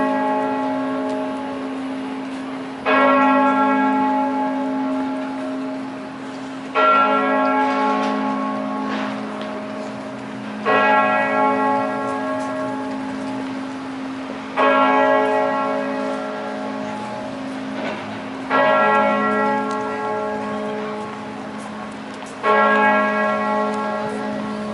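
Great cathedral bells in the City of London ring out the midday chime, six loud, resonant strikes spaced about four seconds apart, each decaying over a steady low hum.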